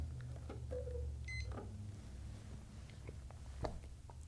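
A timer is set with a few short electronic beeps, high and brief, against a quiet low hum with faint clicks and handling noises.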